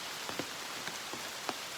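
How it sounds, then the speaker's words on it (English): Rain falling on the Appalachian Trail during a hike, a faint soft patter of drops with a few sharper taps, heard alone against a hushed outdoor background. "17 and a half miles, and it's raining."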